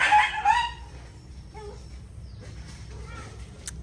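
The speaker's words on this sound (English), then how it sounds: "it sounds like my dog just got beat up by the chickens." Chickens squawk and cluck loudly in a scuffle with a dog, a sharp burst at first that fades into scattered clucks against a quiet background.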